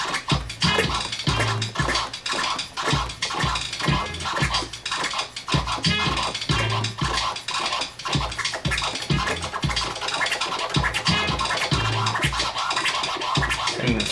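Rapid DJ whip scratches on a turntable record: quick forward-and-back bursts of scratchy noise repeated in a fast, steady rhythm over a low beat, loud and continuous.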